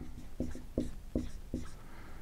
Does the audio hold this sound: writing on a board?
yes